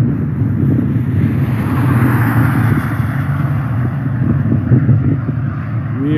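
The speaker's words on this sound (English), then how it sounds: "You feel the wind picking up." Strong wind picks up outdoors near Monahans, Texas during a storm chase, producing a loud, steady, low rumbling roar with buffeting against the microphone.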